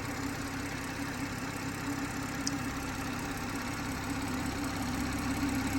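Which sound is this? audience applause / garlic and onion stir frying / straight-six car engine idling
straight-six car engine idling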